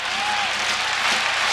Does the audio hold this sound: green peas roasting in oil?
no